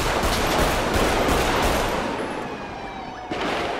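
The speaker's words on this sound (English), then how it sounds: "Officer returning fire." Dense gunfire in a GTA 5 police shootout on sheriff patrol, a continuous loud crackle of shots layered with a wailing siren, steady and close throughout, with no voices.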